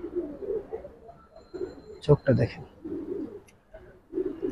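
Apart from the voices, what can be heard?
Giribaz pigeons cooing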